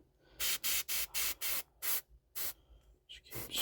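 Airbrush spraying paint onto a miniature model base in a series of short hissing bursts, about seven evenly spaced, close and fairly loud, with quieter fiddling noises between.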